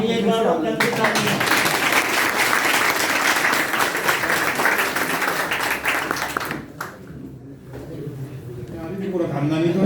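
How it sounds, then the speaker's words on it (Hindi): An audience claps steadily and loudly for several seconds, then the clapping thins out and fades before swelling again near the end. A voice carries over the applause. "ताली एक बार और करके ताली"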